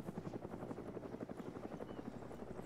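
A helicopter flying in the military game Arma 3, its rotor beating in a fast, even chop with an engine buzz underneath, heard faint and distant throughout.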